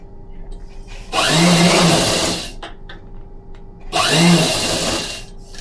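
An electric sewing machine stitches lace onto a pillow cover in two close, loud bursts of rapid whirring, with a short quiet pause between runs.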